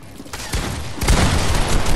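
Gunfire in a Fortnite battle, with a rapid run of loud, close shots building into a sustained burst of booming blasts.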